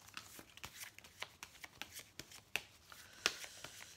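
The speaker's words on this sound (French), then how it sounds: "parfois, il y a des cartes qui se mélangent" Tarot cards being shuffled close by in quiet, papery riffles and soft slaps, a run of irregular bursts with one sharper snap near the end and no speech.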